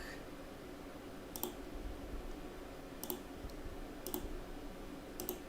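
Several sharp, faint computer mouse clicks sound at irregular intervals over a low room hum, with no talking.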